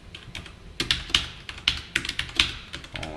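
Code being typed on a computer keyboard during a JavaScript lesson: bursts of quick, close clicking keystrokes with short pauses between runs, no talking.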